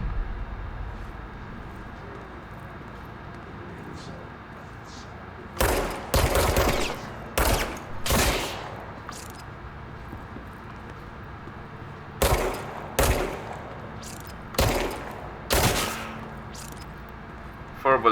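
Gunfire in the game Control, quiet ambience broken by several loud clusters of rapid shots in short bursts, close and sharp, separated by pauses.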